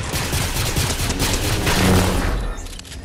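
Rapid, dense gunfire in a video game squad match, a loud continuous burst of overlapping shots and booms that cuts off sharply near the end, with no talking over it.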